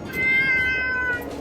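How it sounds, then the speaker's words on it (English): A cat gives a single drawn-out meow, close and clear, over faint outdoor background noise. "You are a pretty cat."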